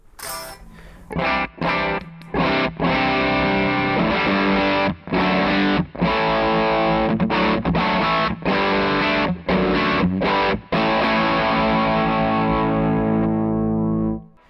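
High-gain distorted electric guitar through an amp, everything set at 12 o'clock, playing loud saturated chords and riffs with short breaks between phrases, sustained and dense, no voices.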